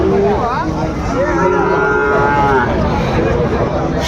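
A Sahiwal bull calf moos several times in drawn-out bellows, close by, at a cattle market, with a busy crowd murmuring and voices talking throughout.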